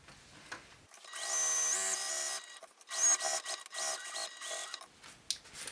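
A sewing machine stitches through a clear vinyl pouch, a steady whirring run for about a second and a half, then shorter bursts and stops with handling noise, close and fairly loud with no talk.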